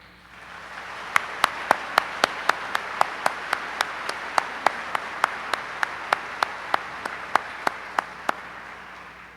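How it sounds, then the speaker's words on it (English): A shareholders meeting audience breaks into sustained applause, broad and steady. Sharp, evenly spaced individual claps cut through it in a regular rhythm, then the applause tapers off toward the end. "a big round of applause is entirely in order."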